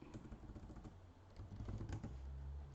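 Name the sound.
typing on a computer keyboard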